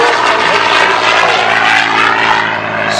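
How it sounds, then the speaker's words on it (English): A P-51 Mustang, the World War II fighter plane, flies past at an air show, its propeller engine a loud, close, sustained drone with a slight pitch shift as it moves. "It made the Mustang what is believed by many to be the best fighter in all of World War II."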